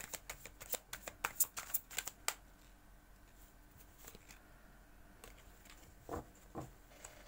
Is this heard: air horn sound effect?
no